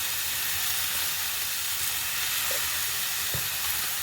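Potatoes frying in a pan, giving off a dense, steady sizzle that runs throughout, with a couple of faint stirring knocks.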